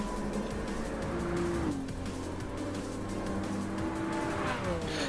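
Mazda RX-7 racing in the video game Gran Turismo 7, its engine droning loud and steady with rising and falling pitch as it shifts, while tires squeal briefly through corners.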